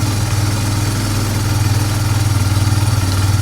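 A broken four-wheeler ATV engine idles up close while warming up, giving a loud, steady throb with a rhythmic pulsing beat and no talk.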